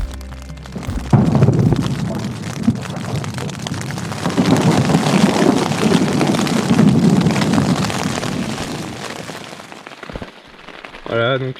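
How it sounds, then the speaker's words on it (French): Heavy rain pours during a thunderstorm on a mountain trek across the Pyrenees, a loud, dense wash of drops with deep rumbling beneath that eases toward the end. "ça fait 4 heures qu'il pleut énormément, avec des gros orages qui tombent là"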